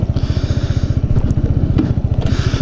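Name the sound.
Kawasaki Z125 motorcycle engine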